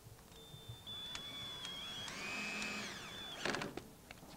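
Power drill driving 1 1/4-inch screws through a metal connector into a greenhouse panel, a steady high motor whine that rises in pitch and then stops, followed by a brief clatter, faint and close.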